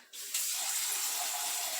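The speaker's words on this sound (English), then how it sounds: "let my water run warm" Tap water running into a sink in a home kitchen, left to run warm while baking bread; a steady, close hiss of flowing water that starts abruptly and holds even.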